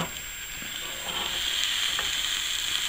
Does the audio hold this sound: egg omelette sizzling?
yes